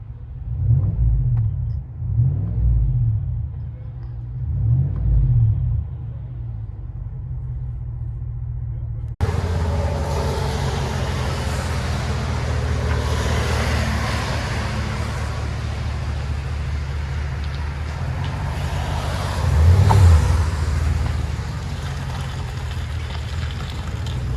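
Cabin view of a GMC Sierra Denali with a 6.2L V8 and an aftermarket exhaust: a deep, steady low drone with a few swelling rumbles early on, then a continuous heavier roar with one surge near the end.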